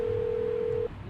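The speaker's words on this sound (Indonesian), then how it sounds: "ini kok Pak Bos kagak diangkat-angkat teleponnya" An outgoing phone call rings unanswered, heard as a steady ringback tone that holds for most of a second and then cuts off, fairly clear and close with no voices.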